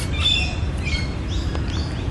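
Australian magpie carolling in warbling, fluting phrases over a steady low background rumble, brief and moderately close.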